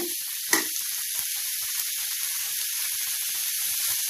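Tomatoes frying in a pan for a spicy bread toast, a steady close sizzle and hiss throughout with one brief sharper crackle near the start.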